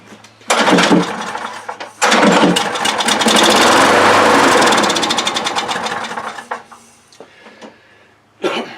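A John Deere JS60 push mower, left outside over winter and fitted with a freshly cleaned carburetor, cranks with a starter rattle and then runs loud and near for several seconds before sputtering out, followed by another brief crank at the end.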